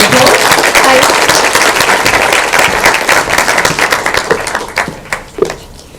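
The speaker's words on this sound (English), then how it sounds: "Can everyone please give a round of applause?" An audience at a conference event bursts into applause, a loud dense clapping that thins into scattered claps and fades out over several seconds.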